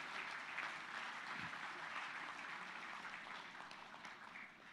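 A conference audience at the Global Peace Convention plenary claps steadily for the co-host, even applause from a large crowd lasting the whole few seconds and fading slightly at the end.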